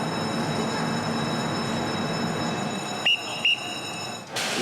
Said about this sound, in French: À la gare du Nord, c'est l'heure de pointe.